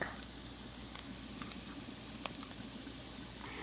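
Garlic dropped into a hot pan for Brazilian-style black beans, a faint steady sizzle with small crackles and light pops scattered throughout, quiet and close, no one speaking.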